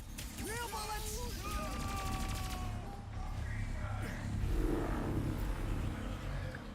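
Rapid gunfire crackles in the video game Ratchet and Clank: Rift Apart as a continuous barrage mixed with game noise, while a voice speaks over the start.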